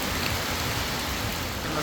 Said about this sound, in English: Rain is loud.